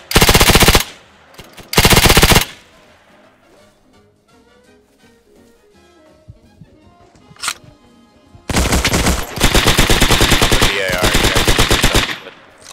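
MP40 submachine gun firing in the World War II shooter Hell Let Loose, loud close bursts: two short ones, a lone shot, then a long sustained stretch of rapid automatic fire with short gaps, no talking.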